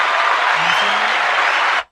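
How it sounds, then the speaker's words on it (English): A short burst of crowd applause, dense clapping at full volume that cuts off abruptly after a couple of seconds. "Already get the applause, brother."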